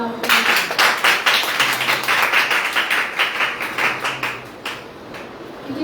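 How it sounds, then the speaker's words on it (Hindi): Congregation at a Sunday church service breaks into loud, sustained clapping, a dense patter of hand claps with a few cheering voices mixed in. "जोरदार तालियां आपको"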